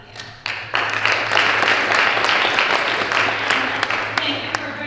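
A room full of guests at the New York Stock Exchange breaks into loud, sustained applause, dense clapping that rises after a brief pause and holds steady for several seconds.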